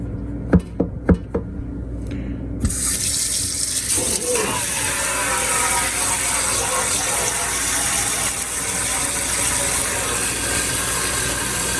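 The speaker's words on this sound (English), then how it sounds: "I use the jet spray, that way I can create as much of the bubbles as possible." Water jets hard from a kitchen sprayer onto a greasy, soap-dosed air fryer part, a steady loud rushing spray after a few sharp knocks and taps at the start.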